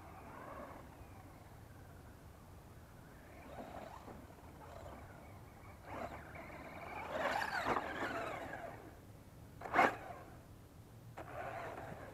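A ZD Racing Thunder RC car runs with something off in its gearbox, giving a steady mechanical whirring rumble that swells in the middle, with a sharp burst near the end and no talking.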